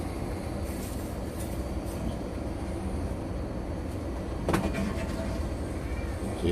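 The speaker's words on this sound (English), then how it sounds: "the blower motor for the thermal ignition system is running right now" A gas furnace's thermal-ignition blower motor runs through its self-check as a steady, even rumbling whir, with one faint click near the end.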